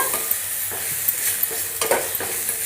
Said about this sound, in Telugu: ఇలా కొంచెం పచ్చిపోయేటట్టు ఒక్క నిమిషము ఫ్రై చేసుకోవాలి